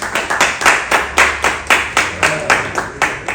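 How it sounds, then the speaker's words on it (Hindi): Seated members at a political party gathering clap together in welcome, producing a loud, rhythmic run of synchronized claps at a brisk, even beat, close and clear. "एक बार थोड़ा जो भी सदस्य बैठे ताली बजा के स्वागत करते हैं।"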